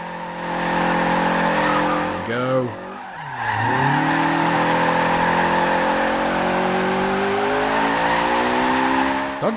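A Honda Civic Type R rally build in Forza Horizon 2 slides with loud tire squeal over a steadily revving engine, with a sharp dip in revs and a pitch sweep during the slide. A voice talks over it.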